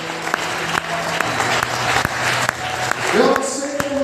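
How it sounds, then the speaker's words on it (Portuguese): Church congregation applauding at an Easter service, a steady wash of clapping hands with sustained tones from music or a voice under it, swelling louder near the end. "Você pode aplaudir esse Deus maravilhoso."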